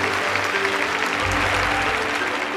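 A room full of people at a Korean overnight church worship service claps steadily, dense loud applause lasting the whole time, with a low hum underneath.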